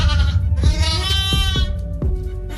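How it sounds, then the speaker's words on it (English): A sheep bleats several times in quick succession, wavering nasal calls heard close over a steady low rumble of background noise. "Huge sheep."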